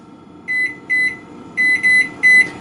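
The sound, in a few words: kitchen timer being set, beeping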